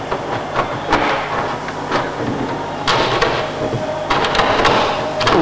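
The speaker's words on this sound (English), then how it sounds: "Ooh, what an ugly sound. The inside phenolic we've gone through the edge of, so that's what you're hearing." A taper reamer grinds through the inside phenolic edge of an aircraft canopy hole with a harsh, irregular rattling chatter, coming in repeated scraping bursts up close.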